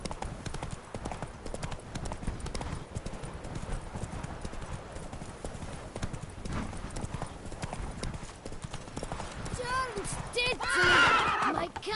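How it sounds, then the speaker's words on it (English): Galloping horse hoofbeats in The Witcher 3: Blood and Wine, a steady clip-clop rhythm running throughout, with a whinny or neigh rising near the end, under game music and ambience. "Even a horse drops if you ride it at a constant gallop."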